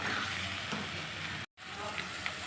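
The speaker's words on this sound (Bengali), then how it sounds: "এবার এর মধ্যে আমি কিমাটা দিয়ে দেবো কিমাটা দিয়ে ভালো করে কষে নেবো" Minced meat fries with tomato paste in a pan, giving a steady, close sizzle with faint stirring scrapes, broken by a brief moment of total silence partway through.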